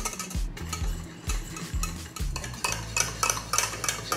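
Heavy cream being stirred into a keto Irish cream mixture with a spoon clinking against the bowl, making repeated scraping and knocking strokes in a steady rhythm, close and clear with no voices.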